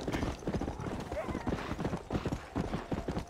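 A horse gallops in Red Dead Redemption, rapid rhythmic hoofbeats thudding steadily and close, with someone talking over them.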